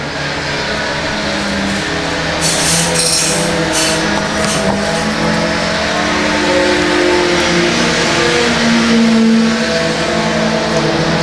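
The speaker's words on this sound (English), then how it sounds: "Register once again seems to pull him on the straightaways, and Simpson making the dive down to the bottom" Race cars roar around a dirt oval track at a Friday night race at L A Raceway, loud engines revving and droning as the pack passes, with rising and falling pitch and a continuous crowd-like wash.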